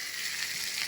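Onion, green chilli, curry leaves, garlic and a pinch of asafoetida fry in hot oil, a brief, soft, steady sizzle heard alone.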